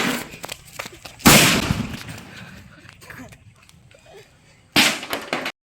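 A homemade firecracker bomb set off under a basin blasts twice, a sharp loud burst followed by rumbling debris and chatter, then a second close explosion near the end.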